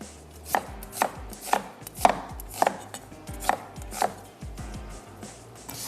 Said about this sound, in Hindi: थोड़ा सा रफली चॉप कर रहे हैं ताकि आसानी से ये पिस जाए